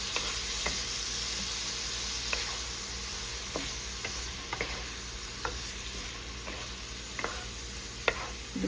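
Chicken pieces with fish sauce sizzle in a hot pan with a steady frying hiss, while a utensil scrapes and taps the pan in irregular stirring strokes throughout.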